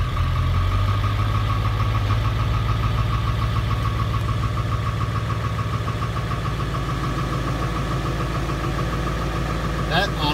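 A 1994.5 Ford F350 with the 7.3L PowerStroke diesel idles steadily and close by after a lift pump replacement, a constant low rumble with a faint rhythmic clatter running throughout.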